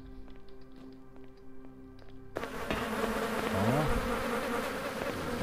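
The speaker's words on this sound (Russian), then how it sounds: "мухи всякие летают" Flies buzzing in the game S.T.A.L.K.E.R.: Lost Alpha, a droning insect whine that swells in after a faint tonal hum, with wavering buzz passes close by and a brief spoken word at the start.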